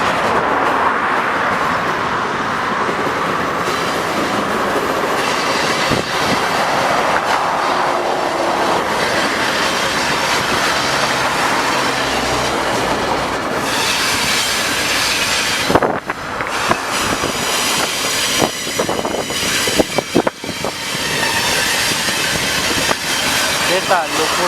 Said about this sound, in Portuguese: Trem da Rumo Logística se aproximando entrando no pátio de Tutóia, cruzando com o trem da MRS.